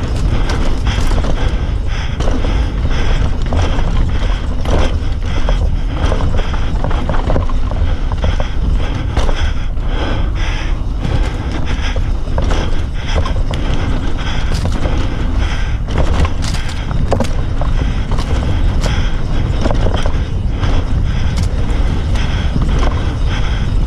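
A Yeti SB165 mountain bike tears through a chunky, fast trail section, with constant loud rattling, clattering and rushing wind noise throughout and no talk.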